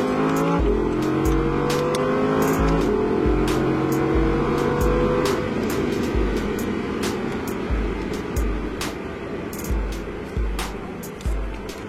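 An Audi R8 RWS on the Castellet circuit accelerates hard, its engine note climbing loud and near through repeated gear changes, with sharp clicks and wind noise over the sustained roar.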